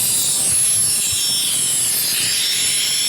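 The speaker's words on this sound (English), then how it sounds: "Okay, compressor cycle." An air compressor runs steadily, delivering air at around 35 psi for a pneumatic woodturning piercing tool. It makes a loud, continuous hiss and roar that holds evenly from start to finish, with no talking.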